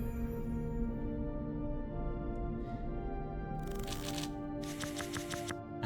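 Two short bursts of riffling card sounds as a deck shuffles in the roguelike video game Stray Path, playing over a steady droning game music bed.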